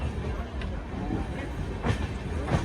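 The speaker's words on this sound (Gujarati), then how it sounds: "થોડીક વાર અહીં ટ્રેન ઊભી રહી હતી, અમે નીકળી ગયા." A passenger train on the Ahmedabad to Haridwar railway gives a continuous, close rumble with occasional louder clacks and rattles as it runs along the track.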